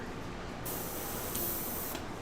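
Steady spray hiss from an airbrush spraying chameleon pigment powder, continuous and close, swelling slightly in bursts over a couple of seconds.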